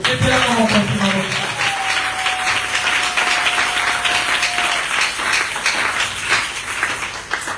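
Church congregation applauding loudly and steadily throughout, with a sustained sung or spoken tone briefly audible over the clapping near the start.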